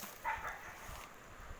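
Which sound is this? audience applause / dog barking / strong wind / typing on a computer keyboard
dog barking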